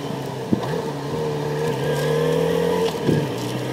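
A Yamaha XJ6 motorcycle engine rides through city streets below 3000 RPM, a steady, fairly loud engine drone whose pitch swells slightly and then settles.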